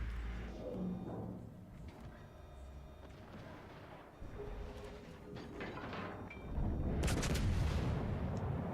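Booming naval turret salvos from a warship in World of Warships: Legends, heavy thuds scattered through a rumbling sea battle, with the loudest blasts coming near the end.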